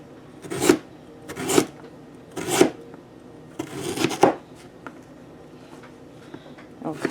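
Knife slicing through firm parsnips on a cutting board: four distinct chopping thuds about a second apart, then a scraping cut and one more at the end, close and moderately loud.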